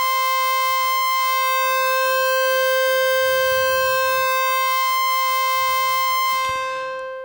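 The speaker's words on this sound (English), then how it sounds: "So now you hear what sounds like a very slow detune, or actually it's more of a phasing effect because of how slow our frequency is." Sustained synth pad chord rings steadily with a slow detuned phasing shimmer, while faint low rumbling sounds drift underneath before the pad fades out at the end.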